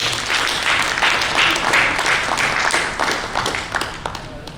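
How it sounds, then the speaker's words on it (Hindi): An audience at a community gathering with ministers and MPs applauds loudly to welcome a guest, with many hands clapping in a thick, lively burst and sharper individual claps standing out near the end. "माननीय पीयूष जी के लिए जोर से ताली बजाकर स्वागत।"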